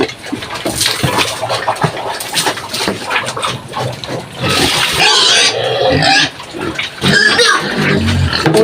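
Penned farm pigs grunt and give loud, shrill squeals in overlapping bursts, close and noisy, with short quieter gaps between the outbursts.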